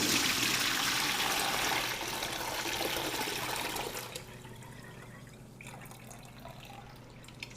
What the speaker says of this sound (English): So I just poured the wheat bran bath through the sieve.